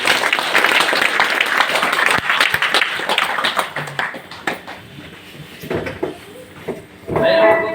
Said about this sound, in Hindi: और एक ताली हमारे फाउंडर डॉक्टर